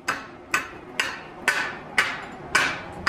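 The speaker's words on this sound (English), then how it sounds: "just take a little hammer, tap it on the edge" A small hammer taps the edge of plasma-cut metal about seven times at a steady rhythm, knocking off slag, each strike sharp and ringing, close up.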